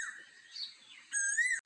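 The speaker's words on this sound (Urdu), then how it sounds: "کوئل کرتی ہے کوکو،" A koel calls in a few clear whistled notes, with a thinner tone first and then a brighter rising note, heard alone and fairly close.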